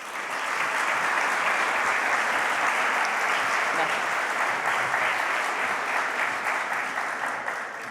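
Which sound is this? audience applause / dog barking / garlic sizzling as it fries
audience applause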